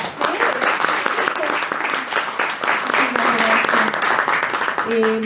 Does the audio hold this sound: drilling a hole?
no